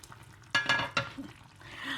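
A spoon stirs chicken casserole in a pan: a few close scraping clinks and brief sizzling, then a softer bubbling hiss, with no one talking.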